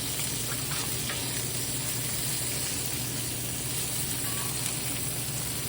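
Salmon cakes sizzle and crackle steadily in a frying pan, a constant bright hiss with no talk over it.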